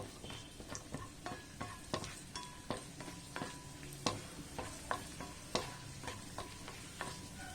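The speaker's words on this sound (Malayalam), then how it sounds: "ഇതിപ്പോ ഫ്രൈ ആയി തുടങ്ങിയിട്ടുണ്ട്. അതുവരെ നമുക്ക് ഇതുപോലെ ഇളക്കി കൊടുത്തോണ്ടിരിക്കാം." Rava (semolina) fries in ghee in a pan over a medium flame while being stirred, a quiet sizzle broken by frequent close spoon scrapes and taps against the pan in a brisk, uneven rhythm.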